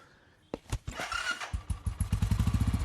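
A motorcycle engine starts after a quiet moment, coughing through a few uneven bursts before settling into a fast, regular close-up putter.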